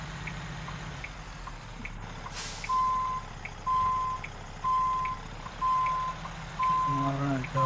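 Truck reversing beeps from American Truck Simulator sound at a steady, evenly spaced rhythm over a low engine rumble, with a short hiss early on and a brief voice near the end.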